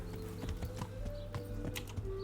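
Horse hooves clop in a steady galloping rhythm while riding in Kingdom Come: Deliverance, close and fairly quiet, with soft ambient tones beneath and no talk.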